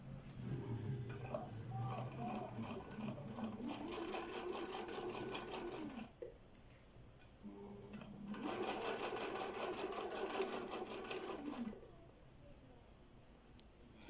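A Husqvarna Viking 3020 sewing machine stitches through leather in two sustained bursts of rapid, even mechanical chatter separated by a brief pause, close and fairly quiet.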